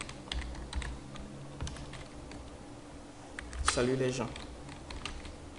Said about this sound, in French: c'est entre ces balises-là que nous allons écrire notre code PHP